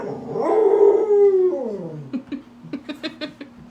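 A dog lets out a long, wavering howl up close, then trails off into a string of short yips and whimpering whines.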